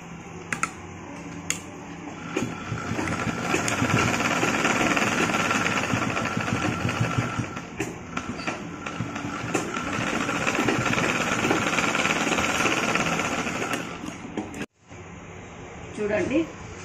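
A sewing machine stitching the side seams of a pleated baby frock from the inside: a continuous fast rhythmic whirring and clatter that runs almost without a break, nearby and under someone talking steadily.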